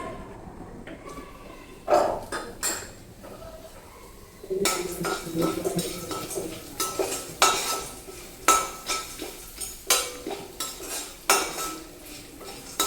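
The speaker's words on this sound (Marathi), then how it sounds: "तर आता इथं हळकुंड आपल्याला व्यवस्थित भाजून घ्यायची तेलामध्ये" Dried turmeric roots roast in a generous amount of oil in a pan, with repeated metallic clinks and scraping of a utensil stirring them, quiet at first, then steady and close.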